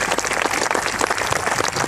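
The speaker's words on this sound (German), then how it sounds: "Applaus!" Dense, steady applause from an audience at a children's fairy tale performance of the three little pigs, a continuous wash of many hands clapping at once with no voices standing out.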